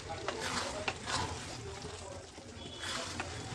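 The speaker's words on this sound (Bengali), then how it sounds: "গ্যাসটাকে কমিয়ে আমাকে এটা মেশাতে হবে" Mustard greens being stirred in a pan over lowered gas heat, soft scraping and sizzling strokes repeating steadily at low volume, close up.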